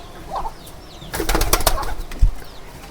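A brief burst of pigeons flapping their wings close by while drinking water, with faint rustling and a soft thump near the end.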